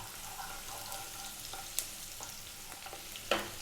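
Onion frying in a pan for a vegan vegetable curry, a soft steady sizzle with occasional scrapes and clinks of stirring, close but quiet, no voices.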